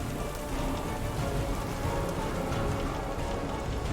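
Steady rain pours down on a surface during a storm, a dense, even hiss of countless drops with no break and no voices.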